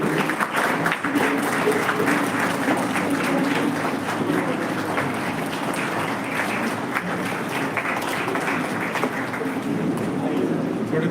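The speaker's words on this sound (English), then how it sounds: "a huge round of applause" Applause from the audience at a live event at Minerva Group of Colleges, Indora, welcoming chief guests and dignitaries, steady dense clapping that fills the whole stretch, loud and close, with no pauses.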